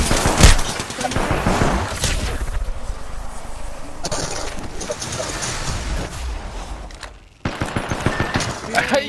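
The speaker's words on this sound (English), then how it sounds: "I am taking fire, friends." Heavy automatic gunfire in the battle royale game Apex Legends, a loud dense fusillade of rapid bursts that stops abruptly near the end before sharper shots resume, with voices talking over it.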